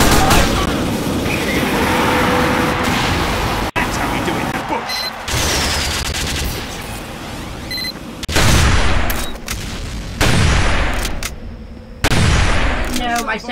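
Loud, close video-game gunfire and blasts during a Team Fortress 2 match, including a sentry gun, as several sustained bursts with short breaks between them, while players talk over the shooting.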